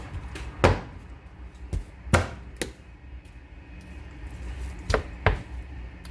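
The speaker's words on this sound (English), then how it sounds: "I'm gonna chop a couple pieces to see what's going on." A cleaver chops cooked jerk barbecue chicken into pieces on a board, about eight sharp, close knocks spaced irregularly with quiet pauses between.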